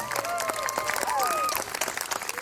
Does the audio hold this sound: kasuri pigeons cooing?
no